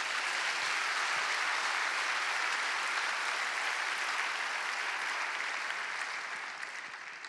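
A church congregation applauds together in sustained, even clapping that holds steady for several seconds before tapering slightly at the end, with no talk over it.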